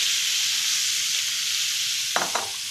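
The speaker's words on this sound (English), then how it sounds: "So now we're going to add our cleaned leeks" Cleaned leeks and sliced garlic sizzle steadily in a hot pan, a continuous bright hiss, with a couple of sharp scraping stirs near the end.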